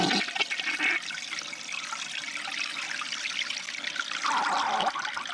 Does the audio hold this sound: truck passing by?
no